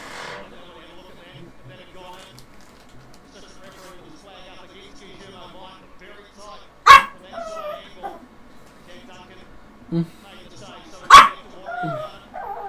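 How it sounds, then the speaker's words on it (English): A dog gives two sharp, loud barks several seconds apart, with a few softer yips and whimpers, while people talk quietly throughout. "I don't know what you're barking at, Bubs."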